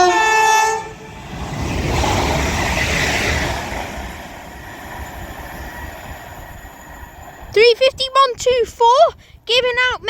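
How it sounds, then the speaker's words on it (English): A London Northwestern Railway Class 350 electric unit passes through a station at speed, a loud rushing roar of wheels that fades, followed by several sharp two-tone horn blasts up close, with talk at the start. "Now passing through is going to be a London North Western Railway Class 350"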